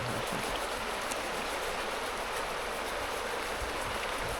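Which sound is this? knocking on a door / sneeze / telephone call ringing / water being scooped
water being scooped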